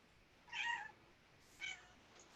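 A cat meows twice, close and fairly clear, with a quiet pause between the calls and no talk over them.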